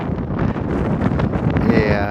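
Strong wind on a foggy mountain walk at altitude, steady loud buffeting and roaring against the microphone, continuous and close with no pause.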